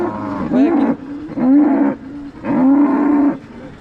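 Cattle at a cattle market in Modnimb bellow in three long, loud moos, evenly spaced with short pauses between them, close to the listener.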